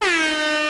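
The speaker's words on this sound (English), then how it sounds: "I might have to give you an air horn in a minute." A single loud air horn blast sounds close up, a bright brassy tone that holds steady for under a second and then cuts off.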